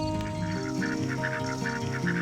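Pet ducks in a backyard vegetable garden give repeated nasal quacks over a bed of music, fairly close and rhythmic.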